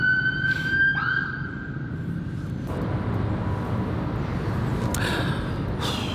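An ambulance siren wails past in Southampton, its rising and falling tone clear for the first couple of seconds before fading into steady background traffic hum.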